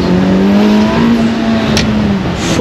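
A car engine roars loudly and steadily close by, its pitch rising slightly as it revs, with a brief sharp noise near the end.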